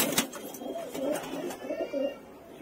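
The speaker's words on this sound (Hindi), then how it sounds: "ये भाई पीला पीला कबूतर है" Soft, repeated cooing from a yellow pigeon kept among paired Madrasi breed pigeons, several low rounded calls in a steady rhythm, close by with a faint background hiss.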